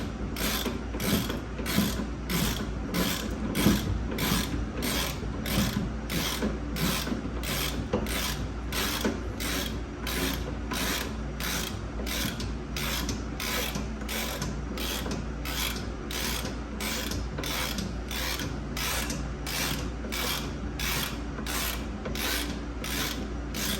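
Ratchet tightening a shock bolt on BC Racing coilovers, a long run of fast, even clicking strokes close up, steady and loud, with no talking.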